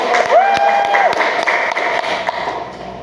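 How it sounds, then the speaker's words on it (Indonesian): Brief clapping from a small group of teachers in a microteaching classroom session, a few scattered claps and taps under a speaking voice, fading quickly within a couple of seconds. "Betul sekali, tepuk tangan."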